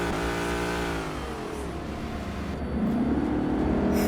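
Ford Mustang engine pulling hard under acceleration, a rising mid-pitched growl that drops as it shifts, then climbs again with a louder, deeper surge near the end.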